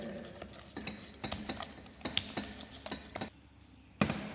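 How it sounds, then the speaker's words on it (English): Sugar being mixed into sour cream cheesecake batter for a mango cheesecake, with uneven scraping and tapping strokes of a utensil against a bowl, close and fairly quiet, with no talking. "Now the sugar gets mixed well"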